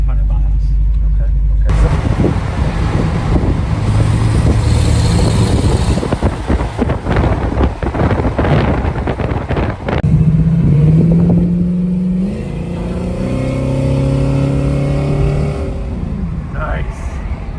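A hot rod engine rumbles loudly from inside the moving car, rising and falling as it accelerates through the gears. People talk over it throughout.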